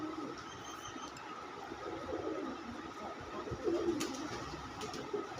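Pigeons coo softly and steadily at a low pitch, a continuous murmuring under light background noise, with a slightly louder burst near the end.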